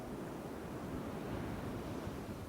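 Ocean waves wash continuously onto a sandy beach, a steady broad roar of surf that stays even and unbroken, with no voices.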